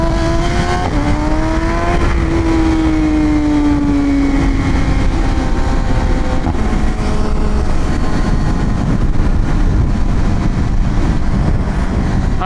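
A motorcycle ridden outdoors rumbles loud and steady in wind noise, with engine tones rising and falling as it shifts early on, then settles into a constant cruising drone.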